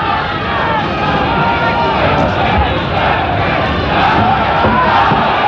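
A boxing crowd at Kooyong Stadium roars in support of Lionel Rose during a bantamweight world title fight, a loud, steady wall of cheering voices that swells slightly near the end.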